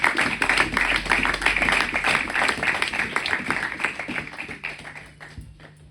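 A church congregation at a French-language Sunday service applauds in praise of the Lord, steady rhythmic group clapping that fills the room and gradually fades out near the end.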